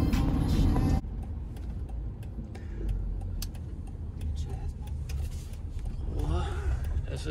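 Motocross bike engine revving on the throttle at a minicross training session at a club track, a loud continuous drone near and steady, with a voice shouting briefly at the start.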